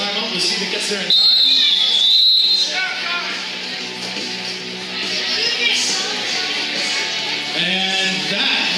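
At a roller derby game, the head referee's whistle gives one shrill blast of about a second and a half over loud crowd noise and arena chatter, with the din continuing afterward.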